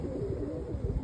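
Roller show pigeons coo steadily in a low, throaty, continuous murmur, several birds overlapping close by with no pauses.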